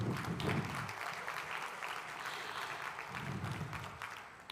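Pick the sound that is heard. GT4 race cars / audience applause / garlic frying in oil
audience applause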